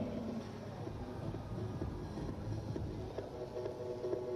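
A spray-model drone flies nearby, giving a steady, moderately quiet rotor drone with faint tonal whine, continuous and without talk.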